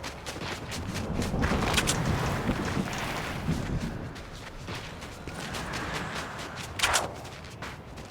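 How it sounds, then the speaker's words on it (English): Gunfire in the Fortnite video game, a scattering of shots from another player firing at someone, heard over a steady rushing wind-like game ambience with one sharper, louder burst near the end. "I see him shooting at another person right now"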